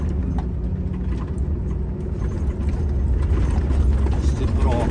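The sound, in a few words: heavy morning road traffic in Biržai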